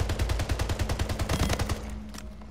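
Rapid automatic gunfire from the arena shooter video game Splitgate, a steady run of evenly spaced, loud, close shots that rattles on for about two seconds before tapering off.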